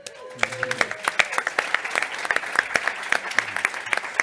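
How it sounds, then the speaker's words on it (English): An audience applauds at an NFT panel discussion, a steady patter of many hands clapping with sharp individual claps standing out, fairly close and lasting the whole stretch, with a voice briefly audible at the start. "A couple claps for IBC."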